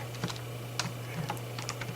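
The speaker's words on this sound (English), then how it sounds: "Sorry if my keyboard is really loud, it's just an old thing and I strafe a lot." Loud clacking of an old computer keyboard during a Minecraft session, with scattered key strikes and bursts of a few rapid taps over a steady low hum, close up.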